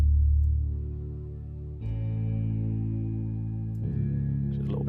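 Project Sam Lumina dystopia sound played through a low-pass filter, a dense, dark sustained synth texture with layered drones that shift in two abrupt steps, heavily muffled highs and a brighter flicker near the end, loud and alone.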